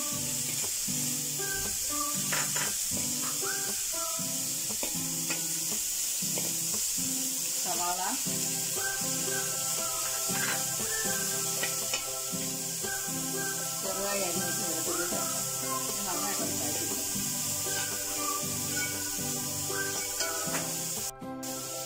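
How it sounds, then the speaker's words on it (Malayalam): Carrot and capsicum frying in hot oil, a steady sizzling hiss throughout with stirring clatter and someone speaking over it. "എണ്ണ ചൂടായി ഇതിലേക്ക് ക്യാരറ്റ് ചേർക്കാം ക്യാപ്സിക്കം"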